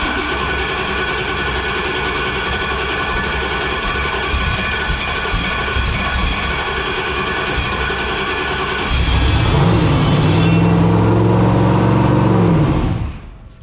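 A car engine cranks and catches after the starter is pressed at a first start, running loud and steady close by, then rising into a heavier roar for a few seconds before cutting off abruptly.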